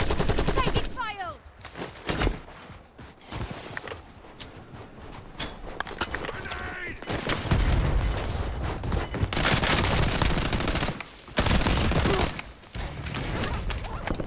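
Gunfire in Call of Duty Warzone: loud, rapid automatic bursts crackle in dense volleys, some close, with brief gaps between strings of shots, while players talk over the combat.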